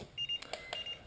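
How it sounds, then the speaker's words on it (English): Brief high-pitched electronic beeps from a LiPo battery balance alarm warning of unbalanced cells, two or three short chirps over a quiet background. "this one's got an alarm on it that'll tell you that it's unbalanced. See, it's telling you that it's unbalanced."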